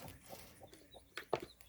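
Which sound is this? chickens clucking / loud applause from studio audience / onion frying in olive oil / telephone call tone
chickens clucking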